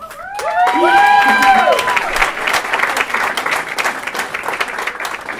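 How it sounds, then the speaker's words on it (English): An audience at a Chamber of Commerce annual membership meeting and awards event bursts into sustained applause with some cheering, while high voices whoop and shout briefly near the start. "I did not have that line to get that applause"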